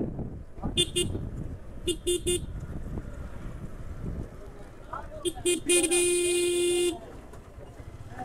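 Busy traffic on a wide riverside road heading to a ferry ghat, with repeated short car horn toots and one long sustained honk over a steady rumble of passing vehicles.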